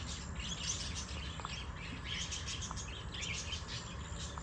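Birds call and chirp in the Raiganj (Kulik) bird sanctuary, faint and scattered over a steady hiss of outdoor ambience, with no voices.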